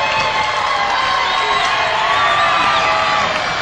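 Audience at an evening gown strip-off contest cheering, whooping and shouting loudly to vote for a contestant, a dense and sustained roar with no breaks.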